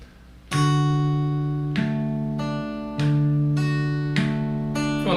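Fingerpicked guitar in a simple beginner fingerstyle pattern, a low bass note followed by plucked higher strings, several sustained notes ringing close and clear with no voice over them.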